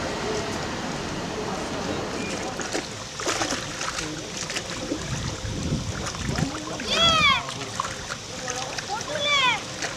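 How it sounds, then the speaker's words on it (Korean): A tour boat sets off on Lake Pichola in Udaipur, with a rumbling motor and splashing water. Brief high chirping calls come through near the end. "지금 막 보트가 출발하네요"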